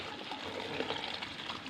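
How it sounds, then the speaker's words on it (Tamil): Cocoa seeds being washed and swished by hand in water, a steady close sloshing and trickling of liquid throughout with no talk. "அந்த கொக்கோ சீட்ஸ் எல்லாம் எடுத்து தண்ணியில் அலவ போகிறேன்"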